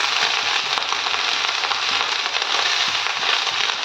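Onion stalks fry in a pan with a loud, continuous, dense sizzle and crackle that stays close and even throughout, with no voices over it.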